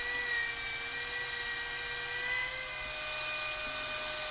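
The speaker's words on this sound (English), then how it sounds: "I think it was okay to just go ahead and use my planer to flatten that" A wood planer runs steadily while flattening a lumber board, giving a continuous high-pitched machine whine with a constant drone, moderately loud and alone for the whole stretch.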